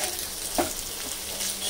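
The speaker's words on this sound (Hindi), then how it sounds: "आलू सिक रहे हैं तो मैं इन्हें पलटती जा रही हूँ" Potatoes roasting in a pan, a soft continuous sizzle and crackle with a faint stir or scrape partway through, moderately quiet and without talk.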